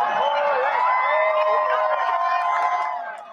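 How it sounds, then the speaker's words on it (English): A crowd cheers and whoops loudly and continuously at the moment of a total solar eclipse, excited voices and shouts blending into a sustained roar that eases slightly at the end. "totally blocking the sun and bringing the crowd to cheers"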